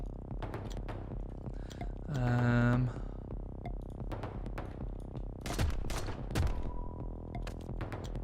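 Enemy gunfire in the space-heist game Heat Signature: a few sharp shots crack out over steady game background noise, with a heavier rumbling burst before them.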